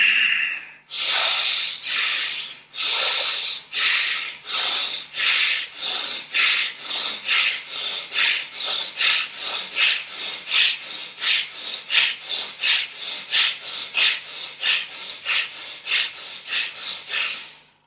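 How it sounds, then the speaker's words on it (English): Forceful Bhastrika breathing: a long run of rapid, evenly spaced pumping exhales through the nose, close and loud, each a sharp rasping puff, speeding slightly into a steady rhythm after a few slower opening breaths. "you take a deep inhale in through your nose. And then you start pumping,"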